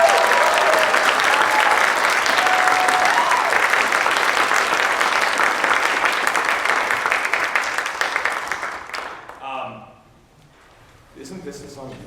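A long round of applause from a concert audience for the music department head at an all-city jazz concert, loud and dense, fading out near the end before a few voices speak.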